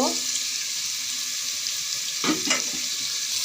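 Vegetables hit a sizzling pan of country chicken skin, giving a steady frying hiss throughout with a couple of quick stirring scrapes near the end.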